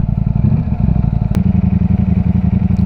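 A Ducati Streetfighter V4S engine idling close by with a raspy, rattling exhaust note, steady and pulsing, with a brief sharp click partway through.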